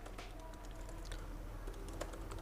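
Typing a note on a computer keyboard: steady, rapid key clicks close by, moderately quiet over a low background hum, with no talking.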